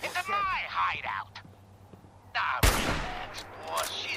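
Sniper rifle fire in Fallout 4: a single sharp, loud shot cracks midway and decays into a rumbling tail, with voices speaking before and after it.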